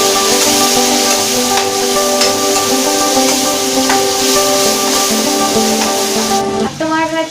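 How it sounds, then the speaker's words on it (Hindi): Tomatoes fry in a pan with a loud, continuous sizzle and scraping stirring noises running throughout, with a brief clatter near the end. "हम टमाटो फ्राई कर लेंगे।"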